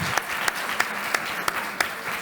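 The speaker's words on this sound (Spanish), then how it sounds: "Los despedimos con un fuerte aplauso." An audience applauds at a public health forum on suicide prevention: a steady wash of clapping with regularly spaced sharper claps standing out, moderately loud and with no voices over it.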